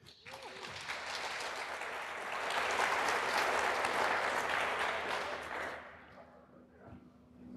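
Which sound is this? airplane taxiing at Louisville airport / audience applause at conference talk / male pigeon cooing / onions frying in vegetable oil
audience applause at conference talk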